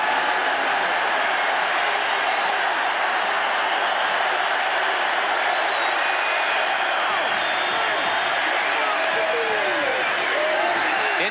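A huge stadium crowd celebrates at the Orange Bowl after a Notre Dame win, keeping up a dense, loud, steady roar of cheering for the whole stretch.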